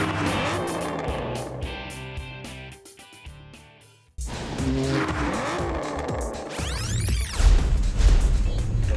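Race cars roar past at speed at the Australian Festival of Speed motoring event in Perth, with loud engine revving and sharp tire squeal and skidding. A brief lull comes before a second burst of howling engines and screeching tires.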